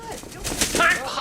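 A bird gives a short cooing call in a quick burst, close and moderately loud, with a faint rustle mixed in and no talking.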